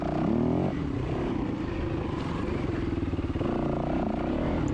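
A dirt bike engine in a sprint enduro race at Penrose, loud and continuous with a revving drone close by, as another rider's bike comes up from behind over the rider's own engine noise.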